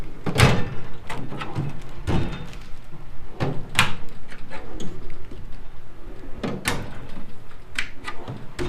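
Metal drawers on a five-drawer Harbor Freight tool cart slide open and shut repeatedly, each closing ending in a sharp clack or thunk, close by, with rattling between and no speech.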